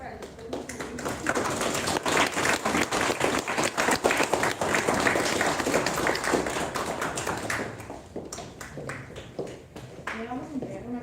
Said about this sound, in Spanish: Les pedimos un fuerte aplauso para el doctor.